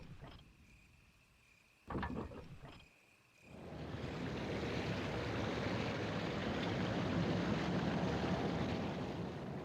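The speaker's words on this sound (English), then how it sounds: "that's going to raise the water" Rushing water swells up in a flooded room of Resident Evil HD Remaster, a few sharp clanks first, then a steady loud wash and roar of surging water filling the rest of the clip.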